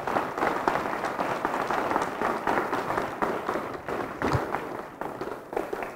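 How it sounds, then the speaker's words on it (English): An audience at an evening program on climate change, politics and human behavior gives a round of applause, dense steady clapping filling the room throughout. "Could we give all of those people a round of applause?"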